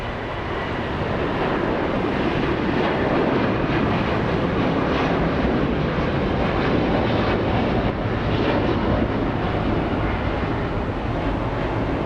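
An El Al airliner at Los Angeles International Airport makes a loud, steady jet engine roar with a broad rumbling wash of sound that stays constant throughout, without speech.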